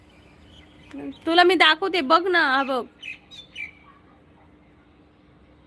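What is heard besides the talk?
bird calling outdoors, unidentified species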